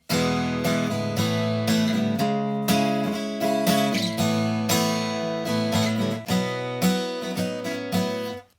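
An acoustic guitar strums full chords in a steady rhythm, changing chords several times, loud and close, with no voices.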